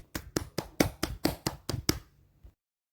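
A class claps for a group presentation, about ten crisp, evenly spaced claps that sound like just a few hands, close and fairly loud, stopping abruptly before a short silence.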